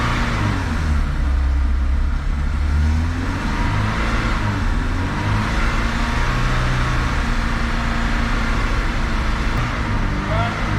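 A Renault Clio 182 Cup engine held at steady revs and stepped up, a loud continuous drone with low rumble throughout, as if being run up on a dyno or in a workshop, with voices talking over it.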